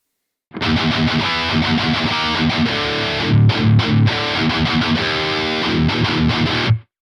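Crunchy high-gain electric guitar on a Quad Cortex through speaker impulse responses plays a tight metal riff of chugs and bursts, loud and close, with no speech.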